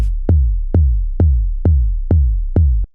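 Six synthesized techno kick drum hits with a fast pitch-envelope drop, evenly spaced about every half second, each a sharp punchy click sweeping down into a booming low decay, loud and alone.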